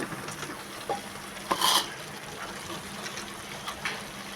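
A spice masala fries and gets stirred in a pan for a jackfruit, chana dal and potato curry, giving a low steady sizzle with a few brief scraping stirs, one louder at the midpoint.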